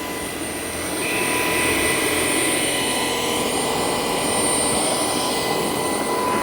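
A Shark PowerDetect IP1255 cordless vacuum cleaner runs close by, its steady high whine and airy roar climbing to a louder, higher suction setting about a second in and then holding level, with no talk.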